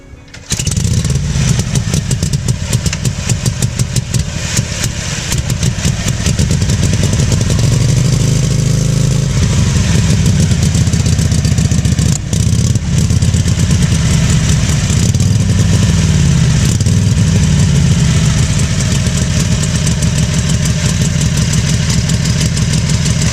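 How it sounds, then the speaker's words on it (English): Harley-Davidson Knucklehead motorcycle engine running steadily close by, a loud, continuous lumpy idle with a deep throbbing beat and small swells in pitch, alone throughout. "In at number 4, the Harley-Davidson Knuckle-Head."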